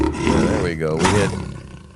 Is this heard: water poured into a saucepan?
no